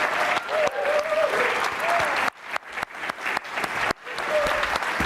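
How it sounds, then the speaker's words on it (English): An audience claps for the candidates at a Seattle City Council District 3 debate, a loud, continuous burst of applause that swells and breaks in waves, with a voice and a cheer over it. "You can applaud."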